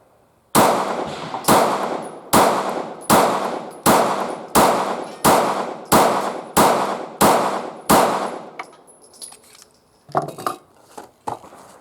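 Shots from a Taurus GX4 pistol firing Fiocchi Range Dynamics 115 grain ammunition, a steady string of about fifteen loud, sharp reports at an even pace, each ringing out briefly, followed by a few fainter cracks from elsewhere on the range.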